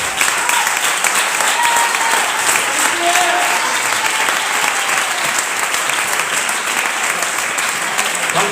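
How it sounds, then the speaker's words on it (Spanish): A church congregation at Iglesia de la Paz in Valladolid applauds together in a loud, dense, sustained wash of clapping that runs unbroken throughout, with voices mixed into the crowd noise. "Y el que lo crea, que dé un aplauso al Señor."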